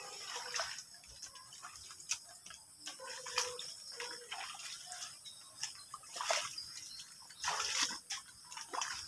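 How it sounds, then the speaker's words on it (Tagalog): Rainwater overflows from a flooded post hole, a faint, soft trickle with scattered drips and light splashes at close range, continuous with small bursts. "umaapaw yung tubig"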